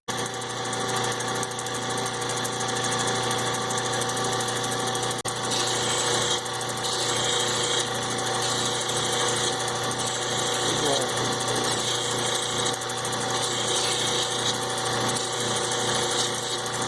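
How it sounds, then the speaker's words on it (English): A grinding wheel working the surface of a Lightning Ridge black opal stone, a loud continuous whirring motor hum with steady grinding noise that barely changes throughout. "see if a few more passes with the grinding wheel will actually take the spot off"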